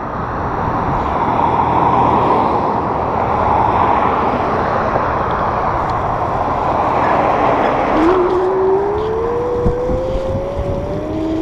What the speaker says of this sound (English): Frickin' car traffic.